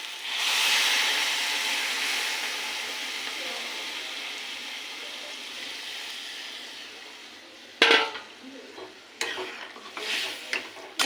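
Spices for matar ghugni sizzle and hiss in a hot pan with sugar added, a strong steamy frying hiss that slowly fades, then sharp bursts of spatula stirring and scraping near the end, close up, without speech.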